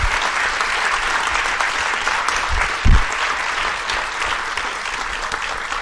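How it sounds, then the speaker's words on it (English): Loud, sustained applause from a forum audience for three panelists at the University of Adelaide's Clean Recovery Forum, a dense wash of clapping with a brief low thump partway through. "we should all give a round of applause for all three of our panelists"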